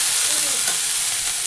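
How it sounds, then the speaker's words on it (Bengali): Cauliflower and potato pieces frying in a pan with little oil, giving a continuous close sizzling hiss with faint stirring sounds underneath and no voices. "ফুলকপি আলু ভাজা বসিয়ে দিয়েছি।"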